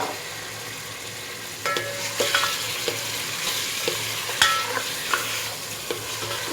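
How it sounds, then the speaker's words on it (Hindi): Beef for biryani hits hot oil in a pan with a steady sizzle, then gets stirred, with scraping and clinking of a utensil at irregular intervals close by and no talking. "अब मैं इस ऑयल में गोश्त शामिल कर दूँगी।"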